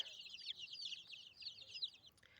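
Young chicks in a coop peep continuously, a dense stream of overlapping high, thin cheeps, fairly faint and unbroken throughout.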